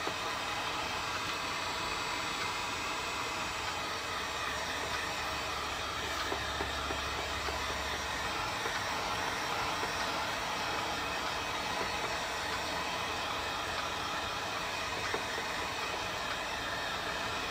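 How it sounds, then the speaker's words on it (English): A heat gun blows steadily on a Jason Voorhees mask, giving a constant, even hiss and hum that stays unchanged throughout without pauses. "I'm gonna hit this with the heat gun again"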